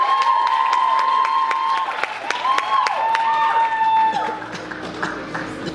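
An awards ceremony audience claps and cheers for the award winners, with sharp whistles rising above sustained applause that gradually thins toward the end.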